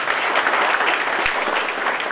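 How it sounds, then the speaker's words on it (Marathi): Loud, dense applause from a large audience at an award ceremony fills the whole stretch steadily, with no talk over it. "टाळ्या जोरदार व्हायला पाहिजे."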